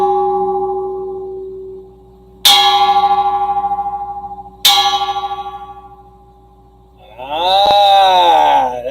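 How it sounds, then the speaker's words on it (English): Deep bells ring out loud and close, two sharp clanging strikes that each hum on and fade, then a wavering, bending tone swells near the end. No one speaks. "That sounded like the bells from that movie Hell's Bells"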